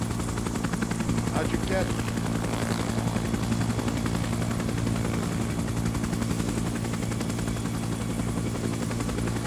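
A helicopter during a hostage exchange in DC runs as a loud, constant rotor and engine drone that fills the scene, while people talk briefly over it.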